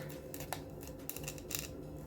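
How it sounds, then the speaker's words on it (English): Sharp fabric scissors snip through tissue paper in a few brief, close crisp cuts over a steady low background hum. "You need sharp scissors to get that tissue paper off there."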